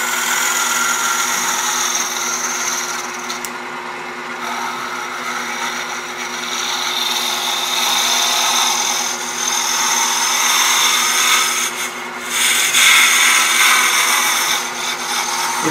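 A wood lathe spins a wooden box blank while a scraper works the surface, giving a steady loud motor hum with rough scraping and rasping that swells and dips, no speech.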